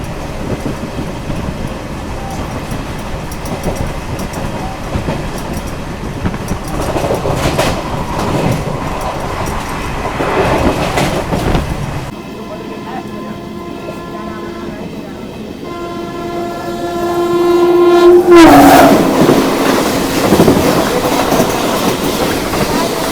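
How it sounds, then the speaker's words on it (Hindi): The Poorva SF Express rolls along with a loud, continuous rumble and rattle of wagons; midway the noise briefly drops, then a long, sustained horn blares near the end over the running train. "हमारी ट्रेन जो है वो निकल चुकी है।"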